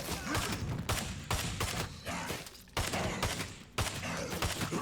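Dense, rapid gunfire in the zombie survival game State of Decay 2 comes in loud overlapping bursts separated by brief gaps, close and harsh, with no talking.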